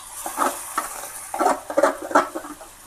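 Masala sizzles in hot oil in a steel kadhai over cooked onion for a pea curry, with a spoon scraping and stirring in short bursts of clinks and hiss.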